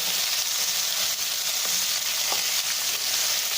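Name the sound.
raw mango added to frying tempering and stirred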